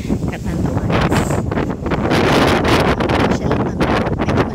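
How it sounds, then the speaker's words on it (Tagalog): Strong wind gusts buffet the microphone at a resort in Pandan, Catanduanes, producing loud, continuous rushing and roaring with surging bursts throughout. "medyo malakas ang hangin"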